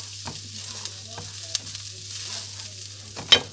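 Meatballs fry in a traybake pan with garlic. There is a soft, steady sizzle with occasional stirring scrapes and clinks, close and fairly quiet.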